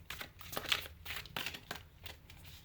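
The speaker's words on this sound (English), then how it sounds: "So let me get shuffling." A tarot and oracle card deck being shuffled gives soft, rhythmic papery riffles and crinkles, close and fairly quiet, repeating in short bursts with no talk.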